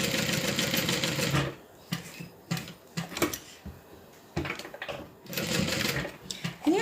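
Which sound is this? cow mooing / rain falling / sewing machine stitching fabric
sewing machine stitching fabric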